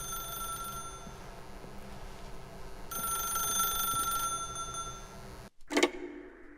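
A telephone rings in the video game The Stanley Parable, a steady electronic ringing tone sustained over a low background hum before breaking off into a short, louder burst.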